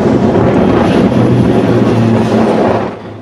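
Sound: King Air aircraft flying

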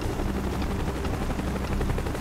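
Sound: helicopter arriving in Call of Duty Black Ops video game

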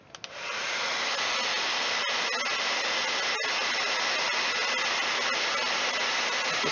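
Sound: hair dryer heating battery wrap

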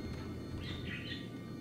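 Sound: birds in the video game Dead Space 2

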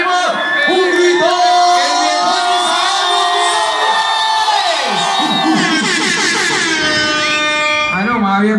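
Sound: concert crowd shouting and cheering

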